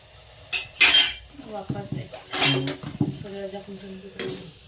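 A spoon scrapes and clanks against a pan while potato curry with tomatoes is stirred: a series of close, uneven metallic knocks and scrapes over a faint simmer.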